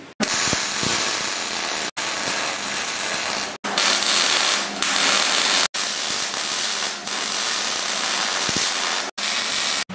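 Welding shelves into an expanded metal cart, with a steady crackling, hissing arc broken by short pauses between welds, loud and close with no talk.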